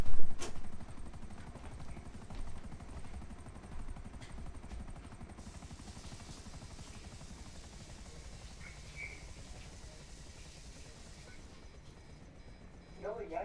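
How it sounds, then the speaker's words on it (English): Helicopter in a PS4 video game, a steady low rotor drone running throughout at moderate level, with a louder burst at the start and game effects layered on top. "I'm in a helicopter"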